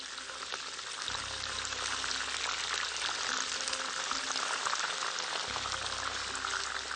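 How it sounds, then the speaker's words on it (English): Chilies deep frying in hot oil for mirchi ka salan, a continuous close, even sizzle and crackle. A low rumble comes and goes beneath it. "We have our chilies almost done. We don't need to fry them too much."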